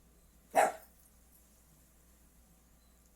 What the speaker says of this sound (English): my dog's barking at the wind